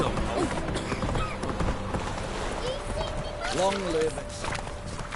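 The horse Roach galloping in The Witcher 3, a steady run of muffled hoof beats under continuous game noise, with someone speaking briefly over it.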